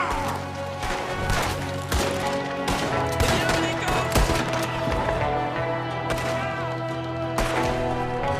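Gunfire in the Western video game Red Dead Redemption 2, a shootout with a shooter firing from a window: rapid, repeated loud shots and crashing impacts over a dense, continuous game soundscape.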